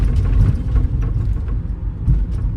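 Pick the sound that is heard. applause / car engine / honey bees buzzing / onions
car engine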